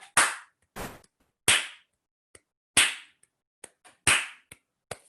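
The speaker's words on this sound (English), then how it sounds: "Could we please clap some compound meter?" Students in a summer string-program class clap a compound-meter rhythm: a series of sharp, close claps in uneven groups, loud strokes alternating with softer ones, separated by brief silences.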